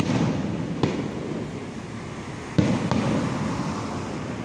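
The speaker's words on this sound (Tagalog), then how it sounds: "Damn, ganda ng fireworks." Fireworks bursting outdoors at an evening fair and cosplay festival, a couple of distant booming pops standing out over a steady wash of crowd and wind noise.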